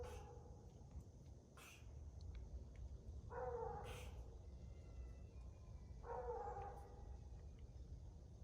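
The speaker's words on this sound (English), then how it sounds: "She's at the bottom of this tree baying up it." A coonhound on a hunt bays at the base of a tree, a few drawn-out howls spaced several seconds apart, faint and distant over a low background hum.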